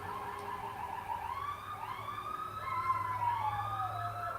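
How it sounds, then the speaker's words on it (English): Highway patrol police sirens wail in the distance, several overlapping tones rising and falling slowly, with a low steady rumble underneath. "You can hear the different sirens."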